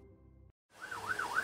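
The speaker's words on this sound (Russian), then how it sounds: "Полицейская машина проезжает по трассе" After a short silence a cartoon police car siren starts up, its wailing tone sweeping up and down in a steady rapid cycle, loud and close.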